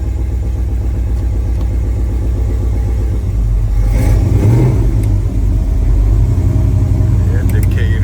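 A 1970 Chevrolet Suburban fitted with a new engine runs just after start-up, close by, with a steady low rumble and a brief rev swelling partway through.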